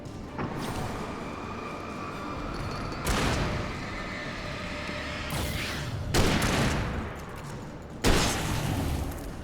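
Hunting rifle shots in the Alan Wake game sound as a few loud, spaced blasts, each a sharp boom with a ringing tail, separated by slow gaps over a constant rumbling background.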